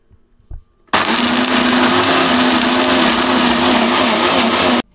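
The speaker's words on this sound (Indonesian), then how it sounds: "Cabenya aku blender belakangan ini biar terpisah nanti pedasnya." A kitchen blender grinds chili into a spice paste for Batak arsik fish. After a brief knock it starts abruptly and runs loud and steady for about four seconds, then stops.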